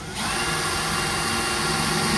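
A power drill bores new mounting holes for a Fox one-piece nose cone bumper, starting after a brief pause and then whirring steadily and loudly, close up, with no talk.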